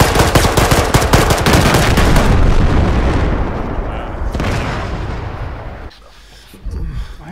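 Rapid video-game gunfire with shots and bursts rattles loudly and densely through the opening seconds, tapering off, then briefly drops to near silence before a short return of noise.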